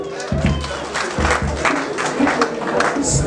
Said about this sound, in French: Applaudissez pour nous à la gloire de Dieu.